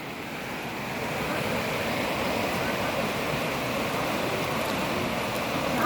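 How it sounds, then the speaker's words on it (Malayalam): Muddy floodwater of the Souparnika river rushes past after a dam was opened, making a steady, loud, broadband roar that holds evenly throughout with some wind buffeting on the microphone. "ഇവിടെ നിന്നാണ് കലക്കൽ വെള്ളം വരുന്നത്"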